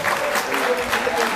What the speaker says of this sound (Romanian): aplauze pentru prietenul nostru